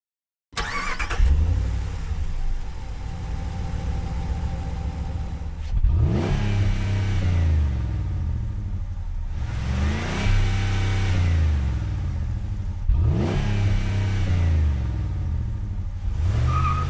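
Truck engine from American Truck Simulator starting up and revving in several rising surges over a steady low idle rumble, loud and close, with no voices.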